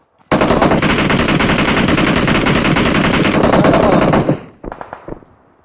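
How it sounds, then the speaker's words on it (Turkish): Sustained automatic gunfire in the PUBG Mobile game on the Livik map, a loud close burst lasting about four seconds before tapering into a few scattered shots. "ben adama sıkıyorum karşıda"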